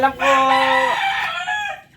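A rooster crows loud and close in one long cock-a-doodle-doo that rises and then trails off, with no other sound around it.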